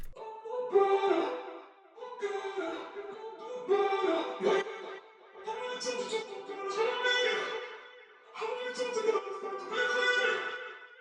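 Chopped vocal snippets in an R&B-style beat, pumping with a half-step sidechain pulse and trailed by delay, arriving in rhythmic bursts separated by short gaps, moderately loud with no talking.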